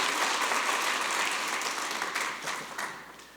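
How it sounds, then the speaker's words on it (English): Applause fills a city council meeting chamber, a dense wash of clapping from the gathered audience that stays loud and steady before tapering off. "let's give them the first round of applause this morning"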